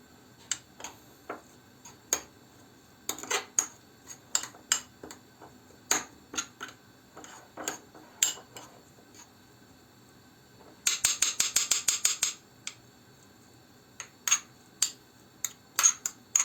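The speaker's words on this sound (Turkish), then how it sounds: "bu üçünü iyice karıştırıyoruz" Spoon knocking and clinking against a bowl while mixing a soap paste for cleaning a burnt kettle, with irregular sharp taps and a quick rattling burst of rapid strokes partway through, close and fairly quiet.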